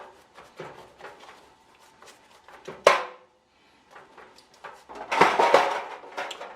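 A glazed roasting chicken slid back into a 375-degree oven onto the middle rack, giving clattering pan knocks and a sharp metallic oven-door thud, then more rattling of the tray, close and without speech.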